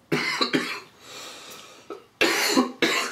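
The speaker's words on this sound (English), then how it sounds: "Sorry if I'm coughing." A person coughs several times in short harsh bursts, close to the microphone, with a brief breathy pause between two clusters of coughs.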